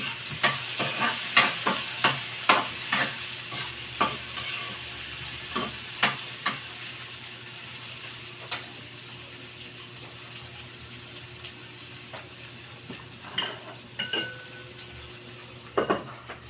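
Garlic hits a hot pan and fries in a quiet continuous sizzle, while a utensil stirs and taps the pan in a run of sharp clicks that thin out and then return near the end.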